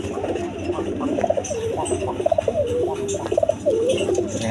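Orange chila pigeons, a Rajgolla breed, coo in a series of short throaty calls after being shaken, close by, with low background noise and a faint voice.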